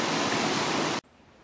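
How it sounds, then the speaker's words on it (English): Goble Creek Falls, a small creek waterfall, pours as a steady, loud broadband rush that cuts off abruptly after about a second. "So that's Goble Creek Falls."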